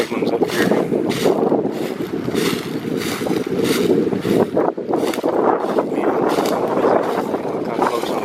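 Wind gusts over an early spring river, buffeting the microphone in loud, uneven roaring waves while someone talks over it.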